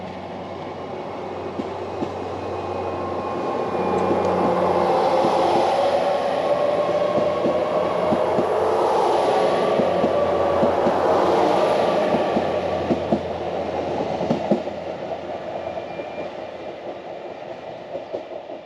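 A GWR IET Class 802 train pulls away from Par station in Cornwall on a Plymouth to Penzance service, its engine hum and rolling wheels swelling to a steady, fairly loud rumble before slowly easing off.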